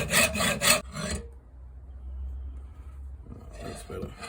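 A knife blade rasps on an EZEsharp blade sharpener in a few quick back-and-forth strokes, then a quiet pause before more strokes resume near the end, close and fairly loud.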